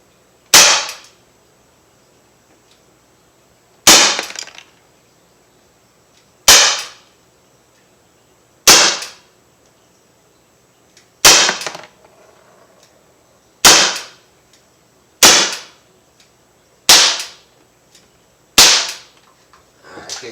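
Umarex SA-10 .177 air pistol firing pellets: nine sharp, loud cracks spaced about two to three seconds apart, each decaying quickly into near silence.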